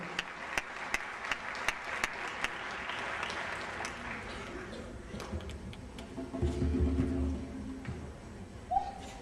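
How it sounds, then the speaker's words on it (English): An audience applauds the AME drummers at a 2011 Martin Luther King Jr. Day event. The clapping is steady and fairly loud, with sharp clicks early on, and it fades as a voice begins speaking near the end. "Let's give them a round of applause"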